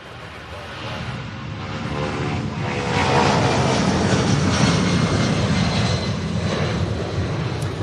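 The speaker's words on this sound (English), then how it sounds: "We have another Boeing 757 heading to Phoenix in a 34-year-old aircraft." A 34-year-old Boeing 757 passes at Louisville airport, its broad jet engine roar building over the first few seconds and holding loud and steady throughout.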